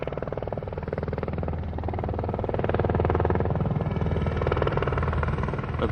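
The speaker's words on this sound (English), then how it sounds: "A British military helicopter retraces a famous flight into Port Stanley." A British military helicopter flies toward Port Stanley in the Falklands, its steady rotor thump and engine drone holding at a moderate, even level throughout.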